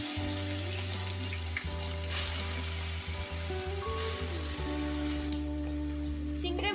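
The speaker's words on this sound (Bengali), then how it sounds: "নুন হলুদ মাখিয়ে রাখা চিংড়ি মাছগুলো দিয়ে দেব।" Salted, turmeric-coated prawns dropped into hot oil in a wok crackle and sizzle steadily up close, with a low steady hum and tonal background sounds running beneath the frying.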